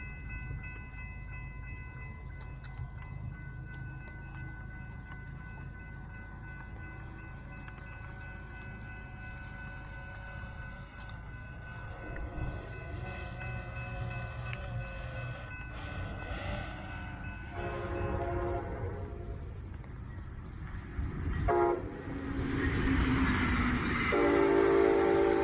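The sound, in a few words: high-speed test train passing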